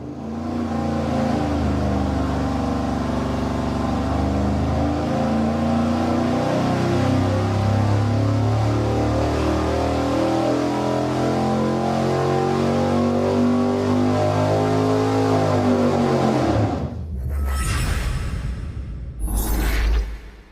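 An engine fitted with an Edelbrock RPM Air-Gap intake manifold runs on a dyno, holding a loud, steady roar for about sixteen seconds before cutting off, then a short second blip near the end.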